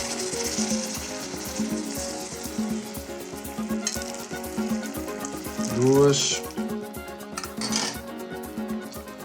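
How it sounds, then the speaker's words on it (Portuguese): Rice cooking with white beans for a salt cod dish, stirred in a pot on the stove: a steady sizzling bubble with rhythmic scraping of the spoon, close and continuous, with brief clinks near the end. "Mexer só bem para o arroz não colar no fundo."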